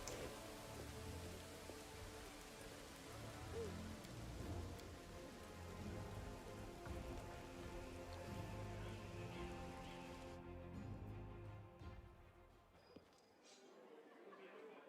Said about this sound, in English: Oh, it's raining, geez.